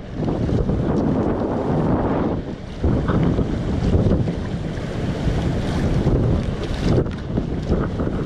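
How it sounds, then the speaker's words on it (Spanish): Jet ski wake waves slap against a kayak at sea near coastal caves in Jávea, Alicante, a steady rough wash of water heavily masked by loud wind buffeting the microphone. "aquí está dándonos el oleaje de la moto de agua."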